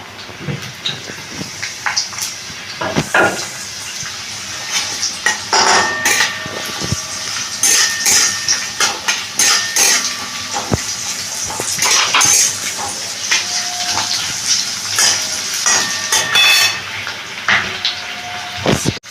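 Chopped onion frying in mustard oil in a kadai, a steady broadband sizzle with scattered clinks and scrapes of a utensil against the pan throughout, fairly close and with no voices.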